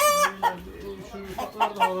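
A rooster crows nearby in drawn-out calls, with a few clucks in between, moderately quiet.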